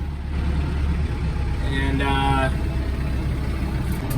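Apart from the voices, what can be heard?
Kubota M7060 tractor engine running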